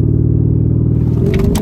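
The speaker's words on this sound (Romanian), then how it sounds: "Fii atent aici să vă fac un launch control." Powerful car doing a launch-control start, its engine rumbling loud and steady at close range before rising into a harder pull near the end, with no talk over it.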